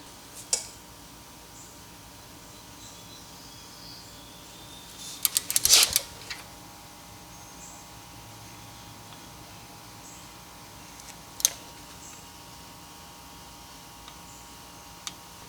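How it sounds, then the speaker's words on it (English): A torque wrench clicks while a wheel hub locking bolt is tightened to 11 newton meters during a wheel bearing replacement on a Mercedes W212 E63 AMG. A few sharp, quiet clicks come alone, with a short cluster midway and single ticks near the start and later. "we're going to torque down the locking bolt here down to 11 Newton meters"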